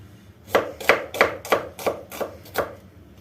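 Knife strokes chop through an onion on a board, seven crisp, evenly spaced thuds at a steady rhythm, close and clear with nothing else around.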